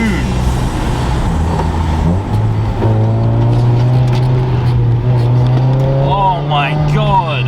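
Honda Integra on Bridgestone Potenza RE003 street performance tyres with coilovers, its engine droning loudly with rising and shifting harmonic tones while cornering hard through a roundabout, heard from inside the cabin, with a voice talking over it.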